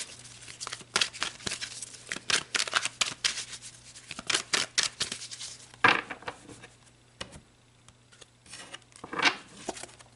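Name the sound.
shuffling and drawing tarot cards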